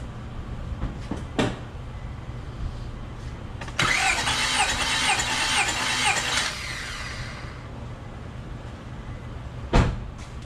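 A car engine cranking over on the starter during a compression test, a loud mechanical whirr lasting about three seconds between quieter clunks and a sharp knock near the end.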